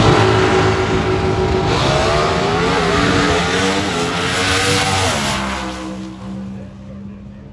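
NHRA Pro Stock drag race cars roar loudly and continuously, the engine note shifting in pitch as they run, then easing slightly toward the end.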